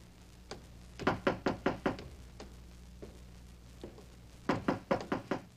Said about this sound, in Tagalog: May kumakatok, may kumakatok.